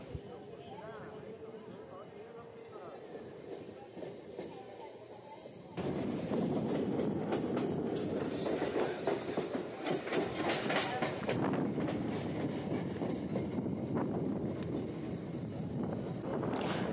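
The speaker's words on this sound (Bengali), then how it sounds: "আমাদের ট্রেন এখন চন্দননগর ছেড়ে বেরিয়ে যাচ্ছে" A Howrah–Bandel local train pulling out of Chandannagar station: a steady rumble jumps abruptly louder partway through and stays as a heavy, rattling roar, with a voice speaking over it.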